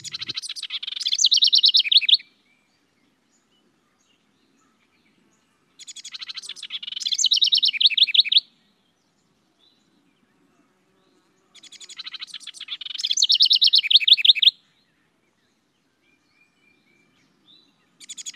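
A songbird sings three separate bursts of rapid, high-pitched chirps and trills, each lasting about two seconds with quiet gaps between, fairly faint and heard alone.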